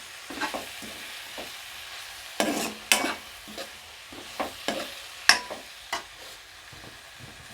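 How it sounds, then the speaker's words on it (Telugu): Fenugreek leaves frying in oil for a curry, a faint low sizzle under repeated sharp stirring scrapes and taps of a utensil against the pan, close and with no talking. "మెంతికూర ఇలా ఆయిల్ ఆయిల్లో ఫ్రై చేయటం వల్ల చేదే చేదనేది పోయిద్దండి"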